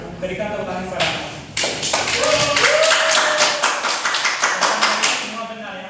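Classroom audience at a physics microteaching session bursting into clapping after a voice speaks, a dense run of rapid claps that tapers off, with talk mixed in.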